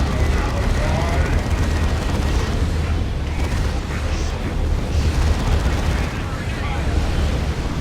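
A Dawn of War frag grenade assault sets off dense rumbling explosions and booming battle noise that roll on continuously at loud volume.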